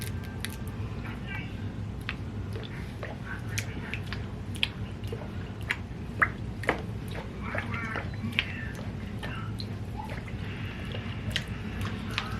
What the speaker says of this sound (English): then I'm going to gently submerge the hair in the water